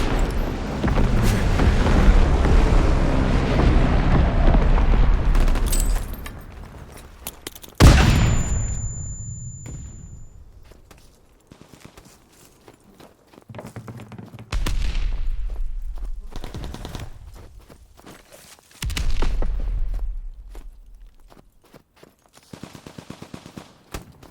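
Heavy Call of Duty WW2 team deathmatch combat on the Gustav Cannon map: dense machine-gun bursts and booming blasts roar up front, then fade to sporadic shots before more loud volleys and explosions return.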